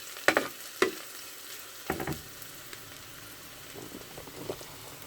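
Onion and garlic saute in a pan for chicken caldereta, a gentle sizzle punctuated by several sharp clacks and scrapes of a utensil against the pan, louder early and quieter later.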